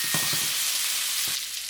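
Black tiger shrimp pan frying with chopped ginger, a steady close sizzle with a few soft stirring knocks near the start and again toward the end.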